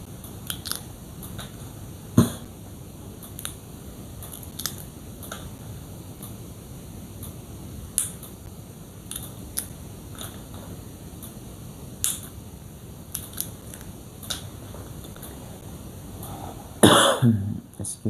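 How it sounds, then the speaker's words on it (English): A man coughs several times, short sharp bursts spaced irregularly over a steady background hum, closing with a louder cluster of coughs and throat noise near the end. "That is why I'm having this cough."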